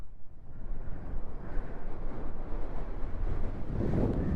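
Strong wind buffets the microphone on Achankoil forest road near Thenkasi, a continuous low, gusty rumble that swells and eases throughout with no voices over it.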